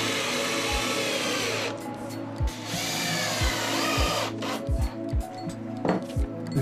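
A power drill drives screws into soft scaffolding wood, giving short whirring bursts with low thumps as each screw seats, repeated several times up close over a steady background hum.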